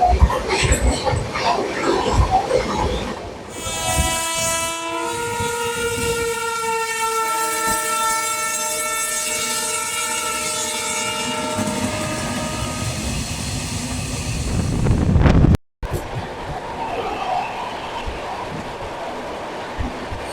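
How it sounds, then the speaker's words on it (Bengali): An Indian passenger express train pulls into Asansol Junction with a long, loud horn blast holding steady tones, wheels clattering and rumbling beneath, then an abrupt cut before the rumble continues. "নির্ধারিত সময় থেকে কিন্তু এগারো মিনিট দেরিতে আমাদের ট্রেন এসে পৌঁছলো আসানসোল জংশনের"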